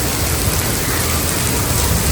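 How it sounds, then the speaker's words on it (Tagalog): Heavy rain pours down in a storm, a loud, dense, unbroken hiss close by that fills the whole moment without any talking. "Grabe ang lakas ng ulan."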